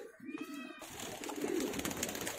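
Pigeons, including a Punjabi Tara breeding bird, coo in soft, low, rolling calls close by, with a few overlapping coos and faint rustling and no talk.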